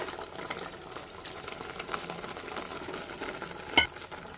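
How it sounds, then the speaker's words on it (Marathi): Semolina being stirred with a milk-and-water mixture in a pan for sheera, with soft wet scraping and stirring close by and one sharp clink of the spoon on the pan near the end. "पुन्हा एकदा व्यवस्थित मिक्स करून घेऊया"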